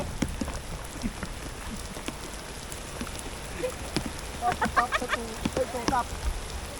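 Rain falls on a backyard fish pond as a steady, close hiss with scattered patters. A few chirpy bird-like calls break through near the end.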